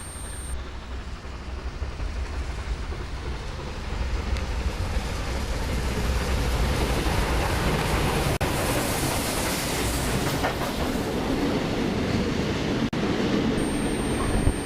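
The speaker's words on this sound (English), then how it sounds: "3642 is seen here storming through the station" Locomotive 3642 storms through Waterfall station in New South Wales, its heavy rail roar building from a lighter start into a sustained loud clatter of wheels and carriages close by, with no one speaking.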